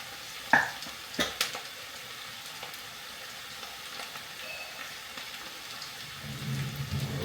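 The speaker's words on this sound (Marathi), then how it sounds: "थोडीशी मोहरी तापलेली टाकेल." Mustard seeds tempering in hot oil for a tadka, the base of dhemse (tinda) bhaji, give a few sharp, isolated pops early on, then a low, faint sizzle that swells near the end, with no talking.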